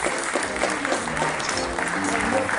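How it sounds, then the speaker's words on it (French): Crowd applause at a Grand Prix du Vexin 2018 prize ceremony honouring a fifth-place finisher, brisk steady clapping from many people with voices murmuring underneath. "On peut applaudir."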